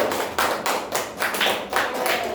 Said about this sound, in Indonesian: Tepuk tangan untuk Bang Mukhtar